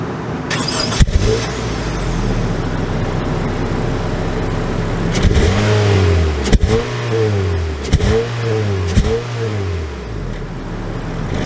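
A 2022 Honda HR-V AWD pulls away and accelerates, its engine rising in pitch through several clear upshifts that repeat in a steady pattern, loud and close, with no talking.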